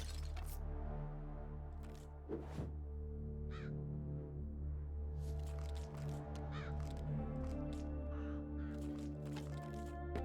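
Crows caw repeatedly in the video game Death Must Die, sharp calls scattered over a steady droning game soundtrack with occasional cracking hits, no talk.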